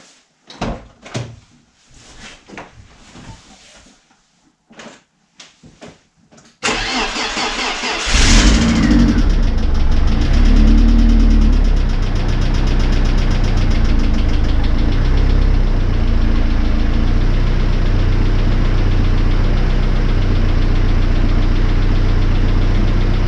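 A BMW E36 engine, long abandoned, turns over amid some clunks and then catches and settles into a loud, steady idle with a slight ticking running through it.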